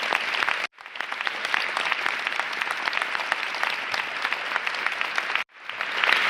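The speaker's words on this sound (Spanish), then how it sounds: "Yo por eso quisiera pedir aquí un gran aplauso a las organizaciones de derechos humanos." A crowd at a Chilean government ceremony marking a new human rights undersecretariat law gives loud, sustained applause, with dense clapping that breaks off briefly twice before swelling again.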